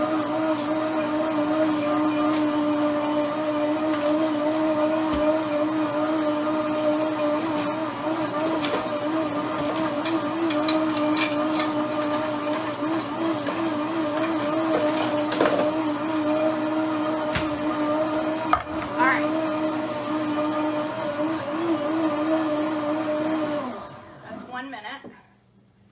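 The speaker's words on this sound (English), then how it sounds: "My blender heats everything up." A blender whirs steadily while mixing a warm peanut butter custard protein shake, a constant droning motor hum that runs for about twenty-four seconds and then stops abruptly, with a voice speaking faintly underneath.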